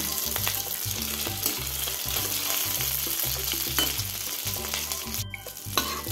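Soya bean muthia dumplings fry in oil with a steady, close sizzling hiss and small crackles throughout, over a low rhythmic musical backing.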